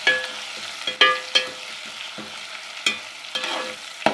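Garlic-ginger paste frying with onions in a pan, a steady close sizzle broken by repeated scraping stirs of the spoon, with no voices.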